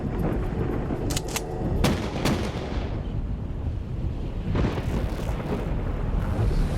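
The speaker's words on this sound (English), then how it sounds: "The shooting was gangland style. Angelo Bruno was shot in the back of the head at point-blank range." Gunfire in a dramatized reenactment of a Philadelphia mob killing, with several sharp close shots clustered early over a loud, dense background rumble, then a fainter burst of cracks later on.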